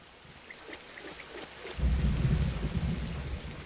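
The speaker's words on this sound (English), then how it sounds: "The rain's kind of nice." Rain and a low rolling thunder rumble from the video game Aidyn Chronicles, starting as soft patter and swelling into a loud, continuous roar partway through, with no voices.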